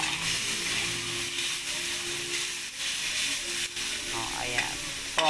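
Sautéing in a pan, a continuous close sizzle and hiss with occasional stir scrapes and a few light clinks near the end, no clear talk.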